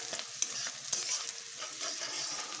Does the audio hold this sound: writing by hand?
no